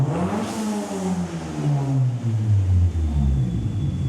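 A nearby car engine revs up, its pitch climbing steadily over several seconds in a rising, throaty roar.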